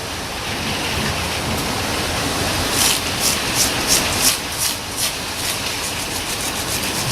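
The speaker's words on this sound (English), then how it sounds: "also going to brush this caliper a little bit" A wire brush scrubs a front brake caliper on a 2008 BMW E90 318i during a brake pad change. The close, rough scratching hiss runs throughout, and a few quick, uneven strokes come near the middle.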